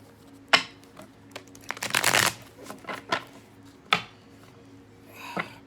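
Tarot cards are shuffled close up in a quiet room, with several sharp riffling bursts and soft slaps, including one longer riffle in the middle, with faint talk in the background.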